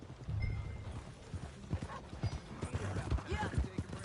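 Horse hooves clip-clop in an uneven rhythm during riding in Red Dead Redemption 2, fairly close, with a brief neigh and people talking over the hoofbeats.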